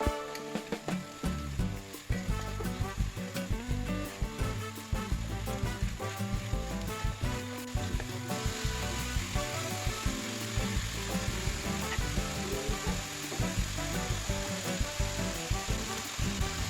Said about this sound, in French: il faut le faire à feu vif pour bien saisir la viande